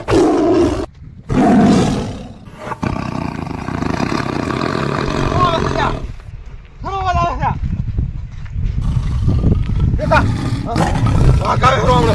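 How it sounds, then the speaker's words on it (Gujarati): Deep, rumbling roars rise and fade several times over a noisy background, with people talking between and over them. "વાઘનો અવાજ નહીં લાગતો"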